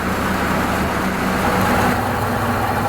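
A 1930 Ford Model A pickup, back running after sitting off the road since 1986, idles with its throttle set low, giving a steady, close, continuous low engine rumble with no pauses.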